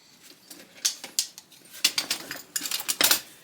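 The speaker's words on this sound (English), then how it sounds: "19mm lug wrench, because this is really useful." A 19mm lug wrench with a pry bar tire iron end being handled, giving light metallic clinks and clanks in irregular bursts, close and fairly quiet, with no talking.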